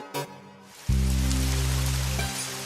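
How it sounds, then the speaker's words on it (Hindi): Heavy rain sets in abruptly as a dense, steady hiss of downpour that carries on for about two seconds, loud and unbroken, with no voices. "देखो आज बारिश कितनी तेज हो रही है"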